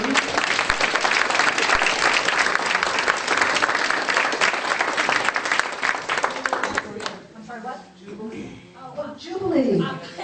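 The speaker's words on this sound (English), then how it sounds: "we'll give you a round of applause for your tour" Audience applause for tour guides Nora Shoup and Kevin Mitchell at a Juneteenth Black Heritage Trail event, dense and steady for about seven seconds before fading into scattered claps and voices talking.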